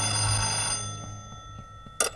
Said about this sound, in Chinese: 啊，稍等，老大，你电话。